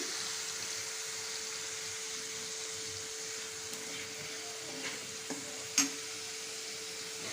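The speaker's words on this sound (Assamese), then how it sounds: "আৰু লৰাই দিছোঁ মাছখিনি।" Fish frying in a pan on a gas flame gives a soft, steady sizzle with a faint constant hum beneath, and a few light clinks and scrapes as it is stirred.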